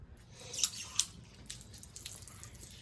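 Water pours from a hose onto plants being treated for aphids, scale and fungi, producing a steady close splashing hiss with a few sharper drip-like spatters and no talking.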